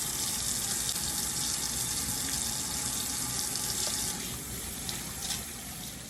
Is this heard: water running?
yes